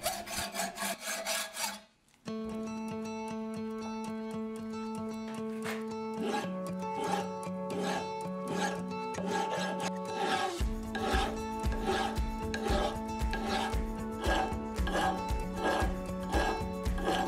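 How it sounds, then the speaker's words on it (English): Metal file rasps away excess metal on a solid bronze casting, a steady run of repeated back-and-forth strokes, close and clear, with ringing metallic overtones and a brief pause early on. "I went to work cutting and filing off the excess metal"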